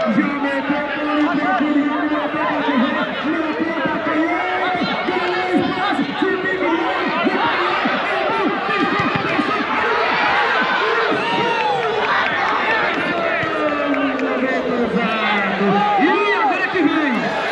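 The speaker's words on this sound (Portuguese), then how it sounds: "a torcida vai à loucura, galera." Basketball crowd at a men's Super Copa Sisal 2022 game between Tucano and Quijingue, shouting and cheering wildly in a dense, continuous roar with whistles and yells, loud and close throughout.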